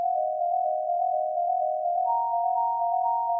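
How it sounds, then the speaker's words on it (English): A soft sine-tone plugg synth lead arpeggiates in a steady, sustained pattern over a low ambient bed, smooth and continuous throughout, with a second higher note line entering partway through. "Then I add this little arpeggiating sine Plugg lead."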